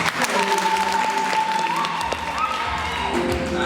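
Applause from a church graduation congregation, continuous clapping mixed with a held tone and background murmur, fairly loud and steady across the short stretch.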